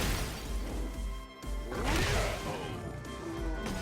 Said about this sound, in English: You can send your opponent flying through a glass pane. It shatters